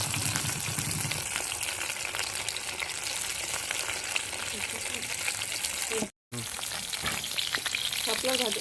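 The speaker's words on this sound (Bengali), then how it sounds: "বড়াগুলো সব ভাজা হয়ে গেল" Shapla fritters made from water lily stems fry in hot oil, a continuous crackling sizzle with occasional stirring, briefly cut by a moment of silence, and a voice speaks softly over it.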